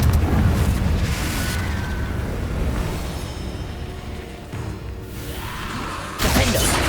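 A Confringo spell explosion in Hogwarts Legacy on PS5: deep, rumbling booms roll out and fade, with a fresh sharp blast erupting near the end.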